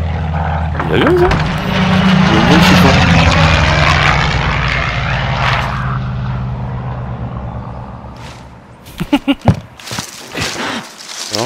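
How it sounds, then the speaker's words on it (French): A propeller airplane roars loudly past in the video game Warzone Pacific, a broad engine drone that swells and slowly fades, followed by a few sharp thumps near the end. "Il y a l'avion, ça."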